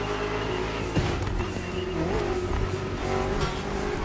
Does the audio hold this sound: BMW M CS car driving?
yes